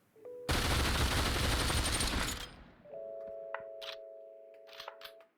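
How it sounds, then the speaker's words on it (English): SMG gunfire in the VR game Population: One, a dense two-second burst of rapid automatic shots followed by a few faint clicks and handling noises over a steady electronic tone. "Now again for the bullet spread and recoil test. We'll fire one-handed,"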